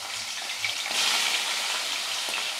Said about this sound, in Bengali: এবার এই তেলটির মধ্যে আমি মাংসগুলোকে দিয়ে দেবো, এক এক করে দিয়ে মাংসটাকে ভেজে নেব।